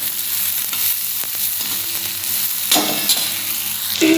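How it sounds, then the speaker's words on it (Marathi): Tomato and onion frying in oil on an iron griddle, a loud steady sizzle close up, punctuated by scraping stir strokes and a few sharper crackling bursts. "त्याच्यामध्ये आपण टोमॅटो कांदा वगैरे एकत्र लालसर भाजून घेणार आहोत."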